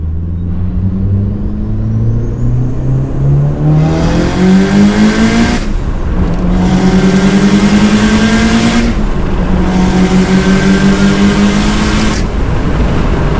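A tuned Mitsubishi Evo running on 98 fuel is driven hard, its engine climbing loudly through three rising pulls with brief drops between gear changes, heard from inside the car with a constant heavy drone.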